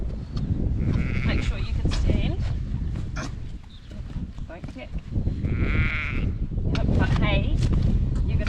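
Sheep bleat repeatedly during stormy lambing rounds on a farm with cattle nearby, several clear calls rising over steady wind and rain noise, with people talking throughout.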